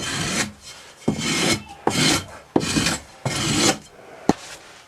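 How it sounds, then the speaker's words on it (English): Rammed casting sand in a moulding box is struck flat with a strickle bar, five rough scraping passes with clear gaps between them, each starting with a knock, loud and close with no talk. "Once you get the box full, you strike it off, or strickle it flat."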